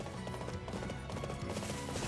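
Horse hooves clip-clopping in the video game Fire Emblem: Three Hopes, a quick steady trot mixed under busy game music and effects.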